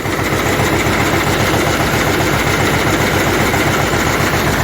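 A loud motor runs continuously at a steady, throbbing pitch, with a constant low rumble and no voices.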